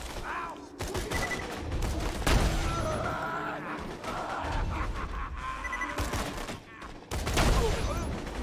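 Gunfire from a weapon in the video game Borderlands 2 comes in repeated rapid volleys of shots, loud and close, over a busy layer of game effects and background noise.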